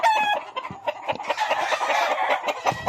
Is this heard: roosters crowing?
yes